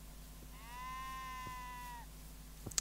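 A single sheep bleat in Minecraft, one drawn-out wavering bleat lasting over a second, fairly faint over a quiet background hum with a few small clicks.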